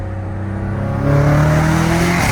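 A Dodge Hellcat Redeye engine revs hard and climbs in pitch, its titanium cat-back exhaust roaring loudly up close with a rough, crackling, popping edge.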